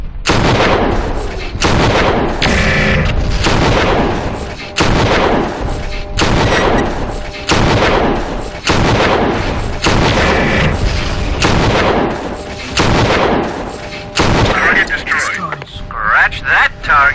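Mech weapons fire in the video game MechWarrior 4: Vengeance, heavy booming shots repeating in a steady rhythm of loud bursts roughly every second, dense and close, with radio-style chatter mixed in.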